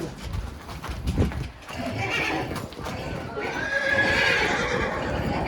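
A horse whinnies in a stable with mares over a busy background of hooves and movement, with voices mixed in faintly; the call rises and trails off near the end.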